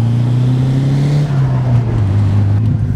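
Engine of a stock Nissan S14 Silvia holding a steady, loud idle-to-low rev drone close by, with a slight pitch dip midway and no voices.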